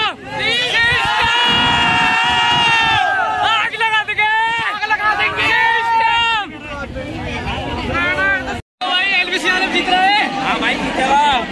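Supporters gathered at a meet-up at Adventure Island in Rohini shout and chant together in loud, close, ragged bursts of many voices, with a short drop in the middle before the noise surges back.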